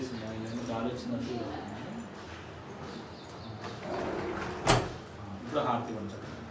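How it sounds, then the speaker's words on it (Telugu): At a home Varalakshmi puja, a door swings shut in the wind with one sharp, brief knock partway through, while people talk quietly around it. "ఆ డోర్ వేసింది గాలి వచ్చినట్టు"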